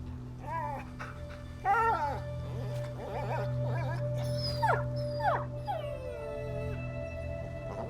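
A dog yelping and whimpering in A Plague Tale: Innocence, a series of high, strained cries over a low steady hum, ending in a drawn-out whine.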